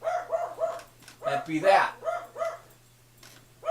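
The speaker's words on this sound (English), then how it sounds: "of course my dog is now barking" A dog barks repeatedly in short, evenly spaced yips and woofs, fairly close and loud, while someone speaks briefly over the barking.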